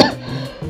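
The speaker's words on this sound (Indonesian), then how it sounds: "sorry batuk" A single short, close cough from a person, sharp at the start and quickly fading, heard alone with no talk.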